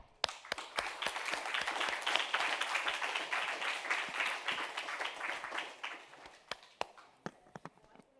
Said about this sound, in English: please give our debaters a big round of applause